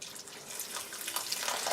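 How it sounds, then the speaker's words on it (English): Water running and splashing into a pot of black-eyed peas, a bright rushing stream that grows slightly louder as it pours. "Gonna add some water."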